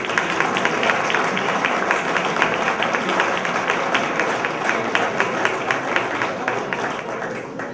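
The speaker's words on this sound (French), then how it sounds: "Please give a hand, mesdames et messieurs, veuillez applaudir" Audience at an awards ceremony applauds with steady, dense clapping that holds at an even, moderate level for the full stretch, without clear pauses or peaks.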